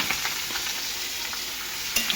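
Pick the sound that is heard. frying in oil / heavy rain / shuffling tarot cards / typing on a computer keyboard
frying in oil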